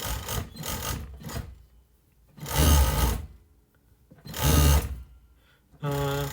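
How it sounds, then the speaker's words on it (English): An overlock sewing machine stitches a clean edge along the top of a pencil skirt, with four loud buzzing bursts of stitching separated by short quiet pauses. "I'm just gonna do an overlock clean edge stitch on the top"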